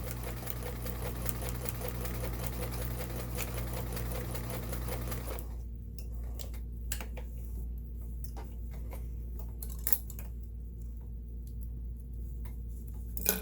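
Kenmore 1802 sewing machine stitching decorative stitches: a fast, even mechanical whirring with rapid ticking, running steadily, then thinning to sparse clicks and knocks partway through.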